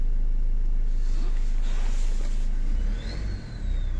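A Renault Kangoo 1.5 dCi diesel engine, one from a driving school, idles steadily with a rough, clattering rumble close by, with a brief dip in level near the end.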